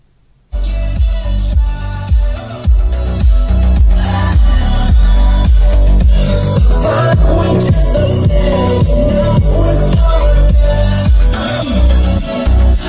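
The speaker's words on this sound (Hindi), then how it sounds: "सो गाइस आपको साउंड सुना देते हैं स्पीकर का" Loud, bass-heavy music with a steady thumping beat plays continuously from the stereo speakers of a 2018 Hyundai i20 Active, filling the car with a punchy low end.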